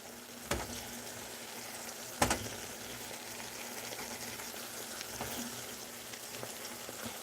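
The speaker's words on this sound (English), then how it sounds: "This is all the pork fat boiling out." Pork fat bubbles and sizzles in a pan while eggrolls cook, a soft, steady frying crackle with a few sharper pops and clicks near the start.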